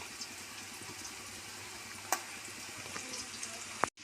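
Green chillies and onion fry in a pan for mushroom biryani, giving a steady soft sizzle with one brief clink partway through, heard close up.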